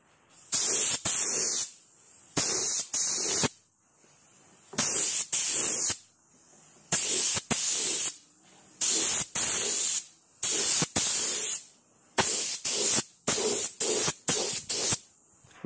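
Aerosol spray paint applied as colour coat in repeated short bursts, each a loud close hiss lasting under a second, with brief pauses between them and no talking.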